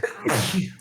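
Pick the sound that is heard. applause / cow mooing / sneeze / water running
sneeze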